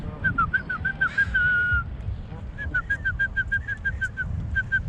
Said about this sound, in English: These guys respond to whistling.